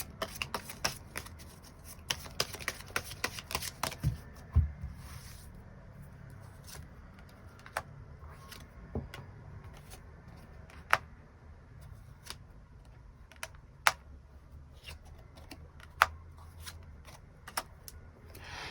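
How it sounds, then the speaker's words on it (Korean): Tarot cards being shuffled by hand, a steady run of soft riffling and sharp card snaps and taps, close and fairly quiet, with denser shuffling early and scattered clicks later, no talk. "추가 카드 뽑아보도록 하겠습니다"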